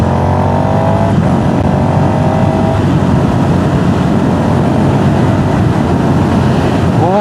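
Ducati Scrambler Urban Enduro Martini special with a race tune cruising on the highway, its engine a steady loud drone buried in heavy rushing wind noise, with one brief rising whine near the end.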